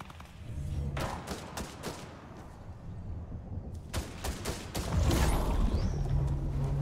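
Rapid bursts of gunfire from a Fortnite match crackle in quick clusters, with sharp shots scattered across the clip and a denser volley near the end, fairly close and loud.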